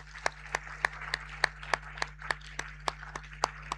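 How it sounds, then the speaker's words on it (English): Applause from a seated audience at a diaspora summit as a dignitary is welcomed; sharp, fairly sparse claps repeat at a steady pace over a constant low hum, with no talk. "Please make welcome Her Excellency, Professor Nana Jane Opoku Ajiman, with a round of applause."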